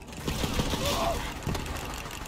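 Rapid automatic gunfire from Borderlands 3 gameplay, a dense, continuous volley of shots and game effects filling the whole moment with little letup.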